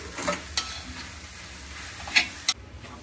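Ivy gourd pieces stir-frying in a pan over high heat give a soft, steady sizzle under a few sharp metallic taps and scrapes of a spatula against the pan. No one talks.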